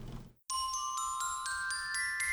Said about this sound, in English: it's a glockenspiel